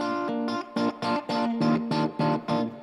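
An electric guitar plays a chopped, rhythmic chord pattern through an amp set to a nano cap tone, a mid-heavy, driven sound in short, repeated bursts with small gaps between them.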